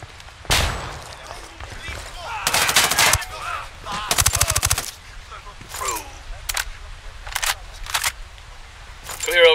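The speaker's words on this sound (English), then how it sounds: "Throwing a flashbang." Gunfire and sharp blasts in Ghost Recon Wildlands combat: bursts of automatic fire and single loud bangs erupt at irregular intervals, with a flashbang thrown among them, and voices speak between the shots.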